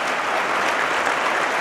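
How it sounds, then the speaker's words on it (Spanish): A church congregation applauds loudly and steadily, dense clapping from many hands filling the room without a break. "Fuerte ese aplauso a nuestro Dios."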